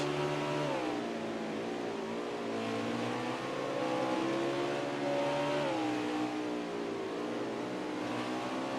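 NASCAR race cars roar in a racing video game, a steady, dense engine drone with pitch rising and falling through the gears, loud and continuous with no talk.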